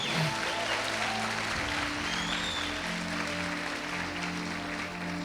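A church congregation applauds during an evening service, giving steady, moderately quiet clapping that blends with sustained instrumental tones held underneath.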